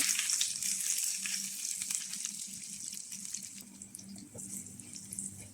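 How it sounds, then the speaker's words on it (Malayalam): Cut garlic sizzles in olive oil in a pan, giving a steady, soft hiss and crackle that continues on its own without talk while preparing chilli garlic steamed egg. "ഇതിനകത്തേക്ക് നമ്മൾ കട്ട് ചെയ്ത് വെച്ചിരിക്കണേ ഗാർലിക് ഇട്ട് കൊടുക്കുന്നുണ്ട്"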